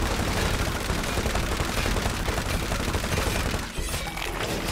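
Rapid automatic gunfire in a video game, a dense, loud and continuous barrage of cracking shots that briefly dips near the end before resuming.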